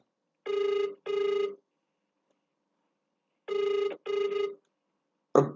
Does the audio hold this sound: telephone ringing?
yes